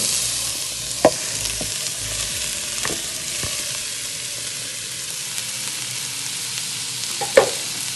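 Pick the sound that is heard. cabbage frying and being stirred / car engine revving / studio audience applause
cabbage frying and being stirred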